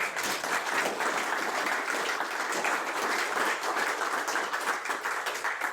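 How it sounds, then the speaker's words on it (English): A round of applause from attendees at an annual rail advocacy meeting, a moderate, even patter of many hands clapping without talk. "So I think we owe Barb a little round of applause."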